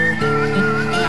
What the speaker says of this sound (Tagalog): Sumisipol habang nakangiti.